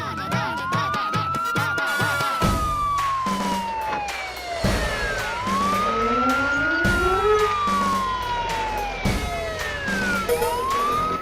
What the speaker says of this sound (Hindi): पुलिस के जीप की सायरन है।